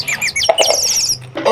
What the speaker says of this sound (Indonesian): Oh, lihat ada burung teman-teman.